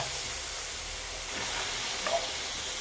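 Beef pieces hit a hot pan of Kashmiri chilli and coriander masala for a Kerala-style beef curry, giving a steady, close hiss of sizzling that holds evenly throughout with a brief louder spit near the end.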